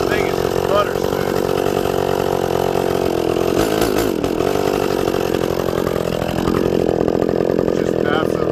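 Two-cylinder John Deere 66SV chainsaw running, a loud continuous close buzzing engine holding steady with a brief dip and rise in pitch midway, no pauses throughout.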